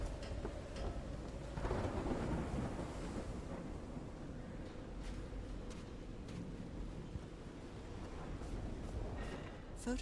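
A thunderstorm in the video game Call of the Sea, with steady rain and a low, distant rumble of thunder running throughout at moderate level, no voices.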